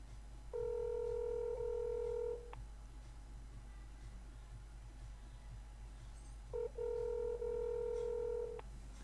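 A telephone ringback tone plays through a handset held near the mic: two steady rings about two seconds long, separated by a four-second pause over low hum.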